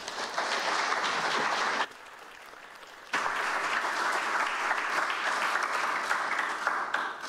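Audience applause welcoming a speaker at a talk about Kansas City barbecue king Henry Perry, a dense, steady clapping from a room of people that briefly thins to a quieter patter before swelling again.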